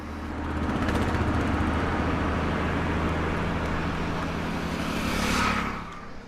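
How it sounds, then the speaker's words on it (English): A slow lorry rumbles along a road in India, its steady low engine drone and road noise continuous and fairly close, swelling slightly near the end before fading. "Most of the next day is spent on the slowest lorry in India."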